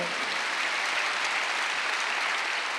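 Many hands clap continuously in a church sanctuary during a Wednesday service at Jesus Centered Church, producing a loud, uniform roar of congregational applause with no pauses or talk.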